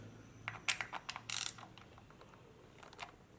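Quick run of ratchet clicks as a wrench breaks loose the derby cover bolts on a Harley-Davidson Sportster Iron 883, a handful of sharp close ticks in a burst, then quiet.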